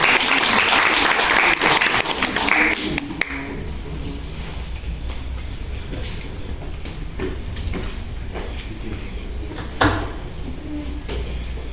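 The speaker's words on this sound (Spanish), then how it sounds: "Fuertes aplausos, por favor." An audience at a literature lecture applauds a conference speaker, with loud, dense clapping at first that settles into a steadier, thinner patter with a few sharper claps, continuing for the whole stretch without speech.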